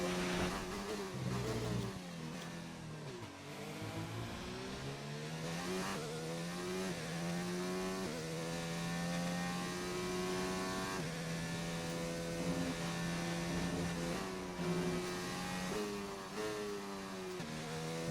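Formula 1 race car engine in the video game F1 2019 at the USA circuit, a continuous high-revving scream rising and falling through gear changes across the lap, loud and close, with no talking.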